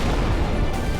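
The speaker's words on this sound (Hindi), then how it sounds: "एक तेज धमाका, आग की लपटें और चारों तरफ मातम। बम ब्लास्ट हुआ है।" A bomb blast near the Red Fort in Delhi on Netaji Subhash Chandra Bose Marg: a loud, dense, sustained boom of rumbling low energy lasting about a second with no voices.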